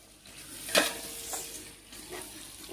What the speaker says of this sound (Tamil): இப்போ வந்து தக்காளி தான் போடுறோம். டொமேட்டோ போட்டுட்டு நல்லா கிண்டி விட்டுக்கலாம்